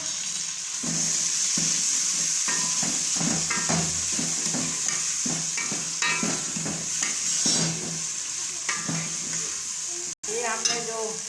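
Tomatoes sizzle and fry in a pan for chicken nihari, a steady close hiss with repeated stirring scrapes and occasional utensil clinks throughout.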